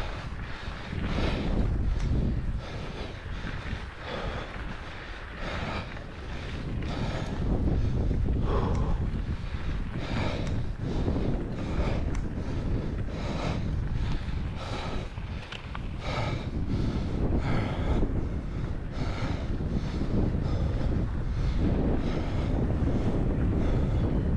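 Gusty wind buffets outdoors on a cold, 8-degree winter day in Peterborough during a fat bike ride, a loud, roaring rush with strong microphone buffeting that swells and surges continuously.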